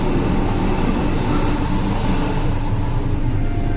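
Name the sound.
Vande Bharat express train passing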